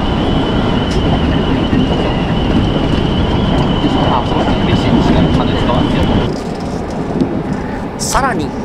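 A Kintetsu Nagoya Line train runs with a loud, steady rumble of wheels and motors and a faint sustained whine, dropping in level near the end, where a brief squeal rises.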